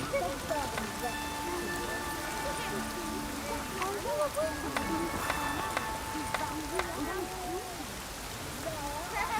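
Steady rain falls over a town in The Witcher 3: Wild Hunt, a constant hiss of drops on surfaces running throughout, with characters talking over it.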